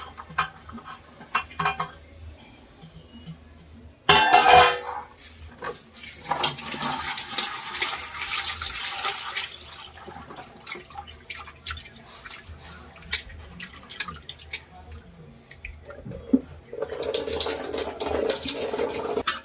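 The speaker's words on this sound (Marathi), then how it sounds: "मटार घेते, बीट घेते, गाजर असं एकत्र 2-3 वेळा स्वच्छ असं धुवून घेते।" Peas, beetroot and carrots are rinsed together in water in a home kitchen while preparing pav bhaji, giving splashing, dripping and sloshing with louder bursts near the start and end and no talking.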